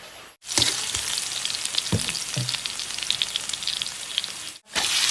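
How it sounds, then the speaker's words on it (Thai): Chopped spice ingredients dry-roasting and stir-frying in a pan for a Lao-style pan yo, a loud, steady sizzle with a few scraping stirs, close up, with no voices. "หลังจากซอยได้แบบนี้แล้วเขาก็จะมาคั่วเครื่องกันเลย"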